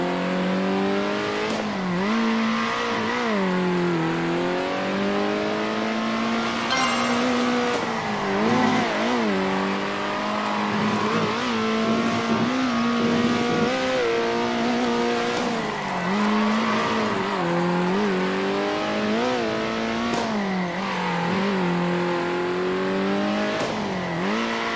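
An 80sGP-class race car laps the Sugar Hill track in the video game CSUP. Its engine whines steadily, rising and falling through gear changes and corners, with occasional tire squeal and no talking.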